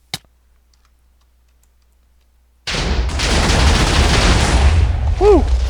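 Two stacks of TNT detonate in a video game, a sudden loud blast that bursts in after near silence and rolls on as sustained crackling, rumbling debris noise, with a brief whistling tone near the end.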